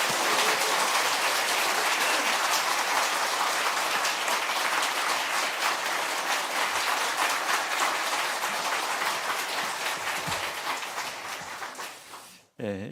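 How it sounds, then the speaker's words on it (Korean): A church congregation at Sunday worship claps loudly and steadily for several seconds, then the sound thins and fades out before a sudden brief stop at the end. "박수 크게 한번 치시고 나오시겠습니다"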